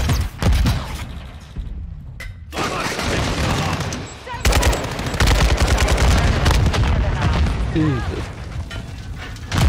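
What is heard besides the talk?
grenade and gunfire in video game Modern Warfare 2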